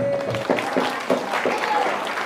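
Audience clapping at an Indonesian religious gathering, a short burst of scattered hand claps with a voice briefly audible over it.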